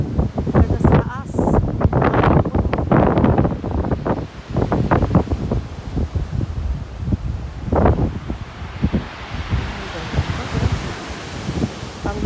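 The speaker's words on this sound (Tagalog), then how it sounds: "Ang ganda ng tunog ng mga ano, hampas ng alon" Sea waves crash and wash below the white chalk cliffs at Seaford, England, a broad rushing roar under heavy wind buffeting and people talking near the microphone.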